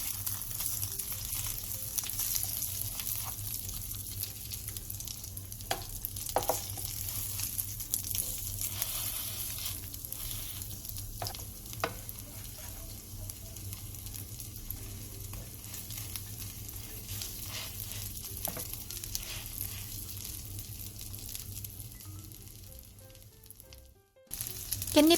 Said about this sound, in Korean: 깻잎전도 마찬가지로 부침가루와 계란물을 골고루 묻힌 뒤 약불에서 부쳐주세요